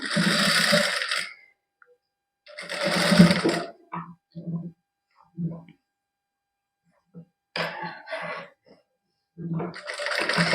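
Sewing machine stitching a lined suit with lace trim, running in short bursts of a second or two separated by pauses, close and fairly loud.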